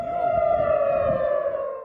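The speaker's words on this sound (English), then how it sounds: "Bombs and sirens could be heard throughout Israel Tuesday." A loud, steady air raid siren in Israel wails alone during bombing, its sustained tone slowly sliding slightly lower, with faint rumbling underneath.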